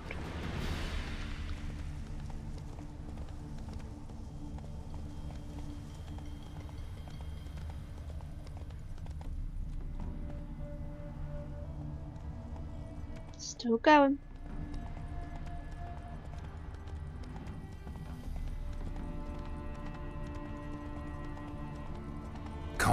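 Horse hooves trotting in The Witcher 3 video game, a steady clip-clop running under the whole stretch beneath game music, with someone briefly speaking.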